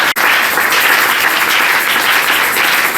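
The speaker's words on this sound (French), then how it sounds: "Est-ce que tu peux acclamer très fort pour Jésus?" A church congregation at a Sunday service applauds loudly, a dense, steady wall of clapping and cheering that fills the room without a break, with no distinct speech over it.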